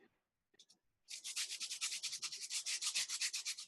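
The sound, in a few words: sanding disc rubbed on ornament ball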